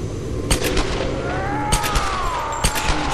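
Gunfire in the Tomb Raider video game: several sharp shots scattered over a dense, noisy game soundscape with a rising and falling whine.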